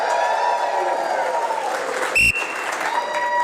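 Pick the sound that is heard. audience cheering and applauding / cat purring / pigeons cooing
audience cheering and applauding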